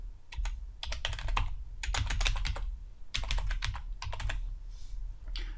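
Fingers typing on a computer keyboard in quick clustered bursts of clicky keystrokes, close and crisp, with brief pauses between runs over a low steady hum.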